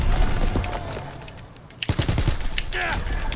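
Gunfire bursts in a World War II shooter game, a spray of rapid shots starting midway and loud in the mix, with voices talking over the battle.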